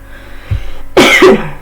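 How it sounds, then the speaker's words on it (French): Two sharp, close coughs in quick succession after a brief low thump, with no talking. "Excusez-moi pour ce que j'ai toussé."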